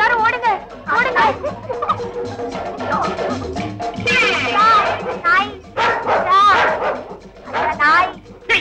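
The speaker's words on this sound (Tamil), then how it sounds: "இது காட்டு நாயிடி, பொம்பளைங்க கண்டா விடாது." A wild dog barks and yips repeatedly in bursts, loud and close, with people's voices mixed in amid the commotion in a Tamil comedy film scene.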